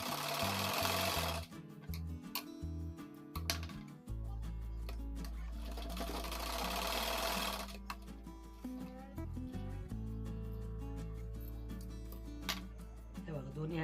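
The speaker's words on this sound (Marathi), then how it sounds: "डबल टिप मारून घेऊ आपण." A sewing machine runs a double stitch on newborn baby clothes, a loud close mechanical whir in several bursts with short pauses between, with some handling noise and no talk over it.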